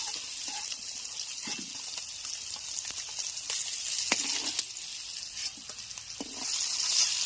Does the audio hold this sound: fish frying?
yes